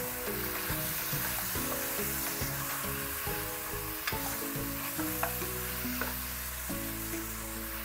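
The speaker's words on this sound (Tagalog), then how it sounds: "Kapag okay na yung sibuyas, isunod na natin itong 1 kg na liempo or pork belly." A kilogram of pork belly is sautéed with onions in a pan, giving steady loud sizzling and frying with repeated stirring and scraping strokes throughout.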